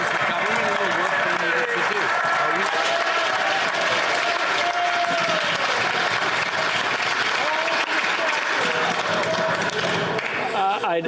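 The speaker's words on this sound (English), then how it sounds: "They were applauding so much for his answer" Loud, sustained applause from a large crowd fills the Canadian parliament chamber, with voices and shouts mixed into the clapping throughout.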